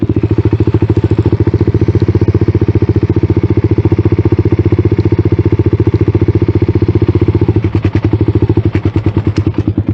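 A motorcycle bucks and rumbles as it is ridden at a drag raceway during the Gatornationals, a loud, close, pulsing engine throb held throughout, turning rougher and choppier near the end.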